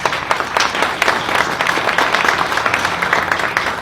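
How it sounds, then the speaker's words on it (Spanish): An audience at an Afro-Bolivian arts talk claps for a speaker, a crisp, moderately sized round of applause with distinct individual claps, steady throughout. "Pido por favor un aplauso para ella."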